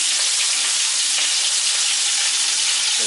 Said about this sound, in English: it looks like the first part of round two is already going into the skillet